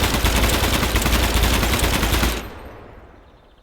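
A full-auto gun in the video game Gunsmith Simulator empties its magazine on a range in one dense, unbroken burst of rapid shots lasting about two and a half seconds. It stops abruptly and a fading echo follows.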